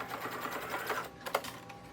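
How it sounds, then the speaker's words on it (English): A sewing machine stitching down the pressed edge of a denim waist strap on an apron, a steady close mechanical whir running throughout with a brief clatter near the end and no speech. "I need to stitch down the edge that I pressed on the waist strap"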